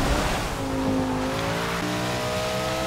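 Engine drone of a Hummer racing on a track in Forza Motorsport 6, with a steady, loud motor note shifting pitch and tire squeal from the spinning vehicle, no voices.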